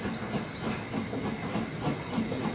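A steam locomotive works along the Harz narrow-gauge railway through autumn forest with a steady rhythmic chuffing and hiss. Faint high squeals repeat over the churning beat.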